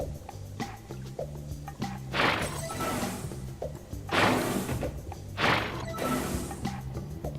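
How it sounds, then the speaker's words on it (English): Glass breaking in the video game Quantum Conundrum, several crashing, shattering bursts spaced a couple of seconds apart amid clicks and mechanical game sounds, with no talking. "I thought I heard glass break."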